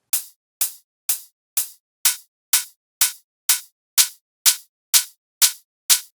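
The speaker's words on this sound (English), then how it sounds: "I always like to layer shakers with open hats." Layered shakers with open and closed hi-hats hit in a steady even rhythm, thirteen crisp bright strikes with short decays, clean and alone with no other sound between them.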